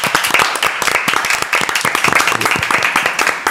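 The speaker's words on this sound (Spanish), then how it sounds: "Pido un fuertísimo aplauso para Alexandra Abreu." Studio audience on a Spanish-language talk show clapping loudly and steadily for an arriving guest, a close, dense burst of hand claps filling the whole stretch.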